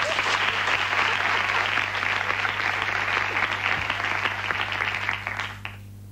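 A studio audience applauds at the inauguration of a national youth gathering on an Argentine television show, a dense, steady wash of clapping that holds for several seconds before cutting off abruptly.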